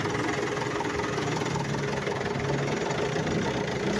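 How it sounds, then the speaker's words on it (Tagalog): A cold Mitsubishi Adventure engine idles roughly and shakes hard in its engine bay, giving a loud, steady, unbroken drone up close with no pauses. "obserbahan nyo, napakalakas ng inig niya, para siyang gustong kumawala sa engine bay"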